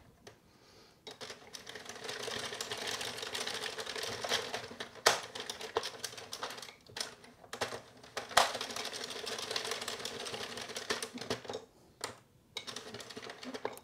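A Sentro circular knitting machine working yarn row by row while shaping a cardigan, giving a steady close mechanical clatter with a few sharp ticks and short pauses between rows.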